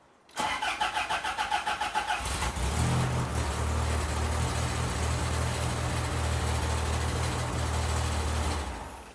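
1982 Fiat 124 Spider engine cranking with rapid rhythmic chugs, then catching and running at a steady idle with a rough rattling clatter underneath, close and loud until it shuts off near the end.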